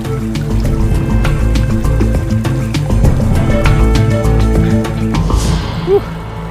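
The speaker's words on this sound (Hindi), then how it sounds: "बहते पानी की आवाज सुनाई दे रही है।" Water flowing beneath someone's feet at a river crossing in remote, snowy wilderness, heard as a close, continuous gurgling and trickling wash that stays steady throughout.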